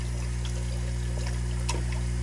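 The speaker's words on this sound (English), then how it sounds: "it's gonna fill up this bucket" Water pours and trickles steadily into a bucket at an aquarium sump, a continuous close stream under a loud constant pump hum, without speech.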